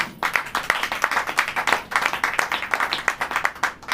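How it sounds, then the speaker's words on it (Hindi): A church congregation claps together in a quick, steady rhythm, many hands striking in near unison, loud and close with no talking. "तो इस बात के लिए हम सब ताली बजाएंगे"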